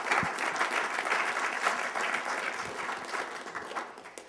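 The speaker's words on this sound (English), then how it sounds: "give her a big round of applause" An audience at a LaunchUp event applauds steadily, a dense wash of many hands clapping at close range that tapers slightly toward the end.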